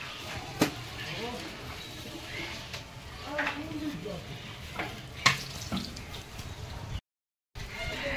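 Jhuri, a gram-flour snack, fries in oil at a small village factory in Bengal, with a faint, steady sizzle, occasional stirring clinks and scrapes, and low voices in the background.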